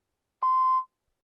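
A single voicemail beep sounds after a phone message. It is a steady electronic tone of about half a second, clean and alone against silence.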